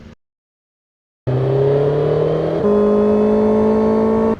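A vehicle on a road during a motorbike tour with M1000RR and S1000RR bikes: after a brief silence, a loud, close engine drone sets in and holds steady, then its pitch steps up and stays level.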